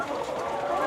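Many chickens in a caged poultry farm cluck together in a dense, continuous murmur that stays at a steady level.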